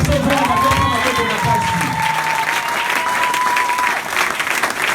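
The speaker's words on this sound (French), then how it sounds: "je demande que tu acclames très fort" A church congregation cheers and applauds loudly, dense clapping filling the whole stretch, with a sustained voice or shout running through the middle under the ovation.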